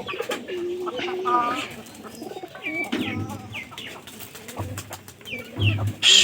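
Pigeons coo repeatedly at close range, with soft murmuring calls overlapping and occasional voices in the background.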